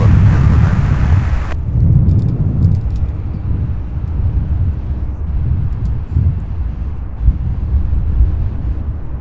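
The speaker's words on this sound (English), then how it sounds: "That wind is really picked up." Wind buffets an outdoor microphone at an airport plane-spotting spot, a loud low rumbling roar that gusts and swells continuously, close and steady with no voices over it.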